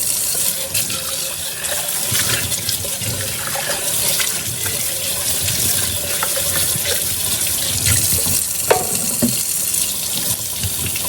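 Warm tap water runs steadily over juicer parts in a sink, a loud continuous splashing rush with small clinks, and no one speaking.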